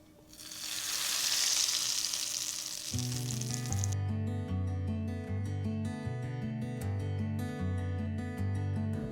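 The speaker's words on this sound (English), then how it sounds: "Add the tempering to the chutney." Hot tempering of mustard seeds, dry red chilies and curry leaves poured into chutney makes a loud, hissing sizzle that swells then cuts off after a few seconds as music takes over.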